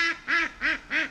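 Ducks quack four times in a steady, evenly spaced run, each call loud, nasal and close by, with no talking over them.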